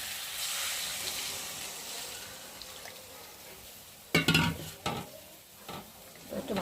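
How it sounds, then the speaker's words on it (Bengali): Water is poured into a pan of sautéed potatoes for an egg curry. A soft steady sizzle gives way to sudden loud splashing and spatula stirring, with clattering scrapes that continue close by. "জল দিয়ে দিচ্ছে মা।"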